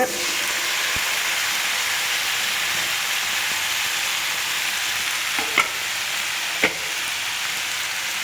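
Ash gourd cooks in a pan for a prawn curry, a steady hissing sizzle with a few sharp clinks and scrapes of stirring near the end.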